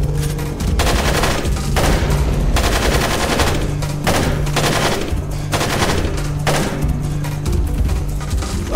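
Bursts of rapid automatic gunfire in the Splinter Cell video game oil rig level, loud and close, coming in repeated volleys with short pauses between them.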